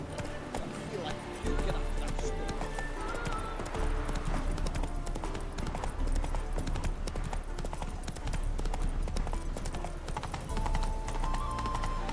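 Roach the horse galloping in The Witcher 3, a fast steady clip-clop of hooves running continuously over a dense game soundscape, with voices speaking at times.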